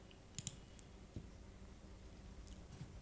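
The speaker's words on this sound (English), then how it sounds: "You just need to click here." A few sharp, faint mouse clicks on a Chrome browser extension icon, quick pairs of clicks close to the mic, spread across a quiet room background.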